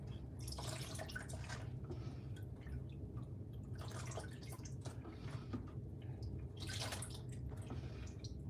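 Cold plain water runs steadily into a marbling bath, a soft continuous trickle and splash with a few brighter surges, faint and close, with no voices.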